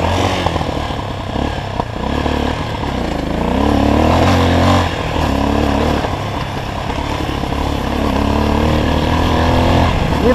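A motorcycle on a motocross track runs steadily up close, its engine rising and falling in pitch as the rider works the throttle through the whole stretch, with no talk.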